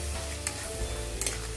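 Bottle gourd curry frying in a pan gives off a soft, steady sizzle while it is stirred, with a few faint clicks of the utensil against the pan and no voices.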